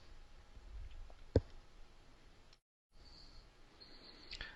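A single sharp computer mouse click stands out in a quiet room, followed by faint low background noise and a short silent gap.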